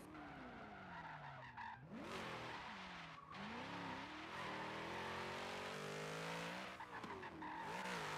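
A drift car on a competition course revs hard and skids, its engine note sweeping up and down over continuous tyre squeal as it warms its tyres, loud and sustained from start to finish.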